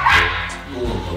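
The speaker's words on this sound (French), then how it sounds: "Oh, ça c'est un chien." A small white dog barks in a few quick, close yips at a refuge in Colmar, with voices around it.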